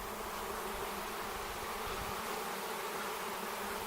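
A swarm of honeybees hums near apple trees, a dense, steady buzzing drone that fills the air evenly without pause, fairly faint and with no voices.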